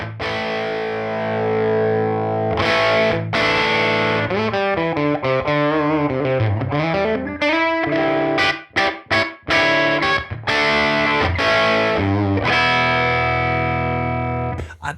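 An electric guitar runs through a UAFX EP3 tape delay preamp pedal, its saturated, slightly distorted tone playing a busy melodic phrase with slides and bends, then choppy chords with brief gaps, loud and close, no talking.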